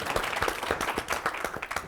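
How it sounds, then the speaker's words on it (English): Audience applause for a young squash player at a classroom-challenges event, a short burst of scattered, fairly sparse hand claps at moderate level. "Let's applaud for that"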